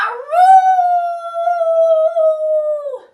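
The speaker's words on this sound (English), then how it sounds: "Cowboy Coyote wrung out his hat and dripped in the night and howled, Arroo!" A coyote gives one long, loud howl close by. It rises at the start, holds a steady pitch for about three seconds, then drops off, with no other sound around it.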